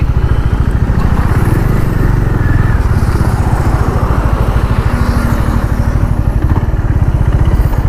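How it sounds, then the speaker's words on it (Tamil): A Honda Hness CB350 350cc motorcycle engine idles steadily, a close, loud, even thumping pulse that holds without a break. "வண்டி நான் ஸ்டார்ட்லேயே விட்டுறேன், ஐடியல் ஆகிட்டு இருக்கட்டும்"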